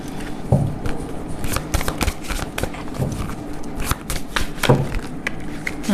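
A deck of cards is shuffled for a card reading, a close run of irregular riffling flicks and soft slaps with brief pauses.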